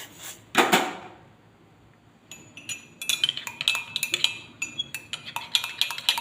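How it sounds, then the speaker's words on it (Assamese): A metal spoon stirs coffee in a cup: after a brief scrape and a quiet pause, rapid bright clinks and taps ring out repeatedly, close and clear, with no talking. "এনেদৰে চামুচখনেৰে ধুনীয়াকৈ ঘটালি মই মিক্স কৰি ল'ম।"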